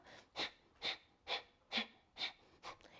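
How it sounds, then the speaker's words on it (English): Rapid, rhythmic breath-of-fire yoga breathing: six sharp, forceful nasal exhalations evenly spaced about half a second apart, close and fairly quiet, with no talking. "So we're really activating this space as we do breath of fire."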